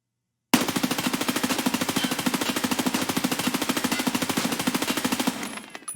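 Gun in Escape From Tarkov firing one sustained, very rapid full-auto burst of about five seconds, loud and close, the shots evenly spaced until the burst ends.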